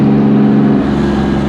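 An EG33 flat-six in a Subaru WRX STI runs loud and close, a raspy engine tone held high, then dipping slightly toward a lower steady note, with no talking.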